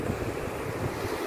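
Sea waves and wind at Dingalan after a typhoon: a continuous rough rush of surf mixed with wind buffeting the microphone, loud and unbroken.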